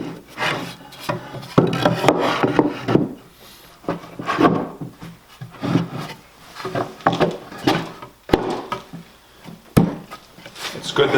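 Wooden knock-down display shelf pieces slid and pressed together by hand, giving a series of close, dry wooden rubbing and scraping bursts with soft knocks, interleaved with someone talking.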